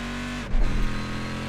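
A race car engine drones onboard at Suzuka in the Gran Turismo video game, holding a steady tone with a brief dip and shift in pitch, as if changing gear, then running on evenly.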